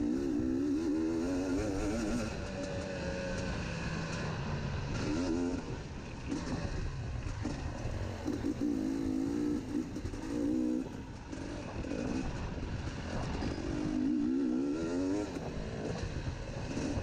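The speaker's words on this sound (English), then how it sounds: "I think that was him revving back at me" A dirt bike engine revs in rising and falling bursts, fairly close, over a steady background rumble, at a cross-country motorcycle race.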